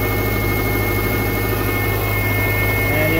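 A Subaru car engine idles just after start-up, a steady low hum with a faint whine and broad hiss, even and unbroken at close range.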